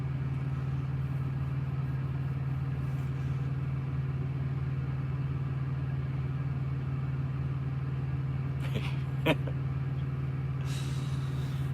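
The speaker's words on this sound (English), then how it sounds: "I like the sound of the Pack car." Paccar truck engine idling at a terminal yard, a steady low drone holding unchanged throughout, with a couple of faint clanks near the end.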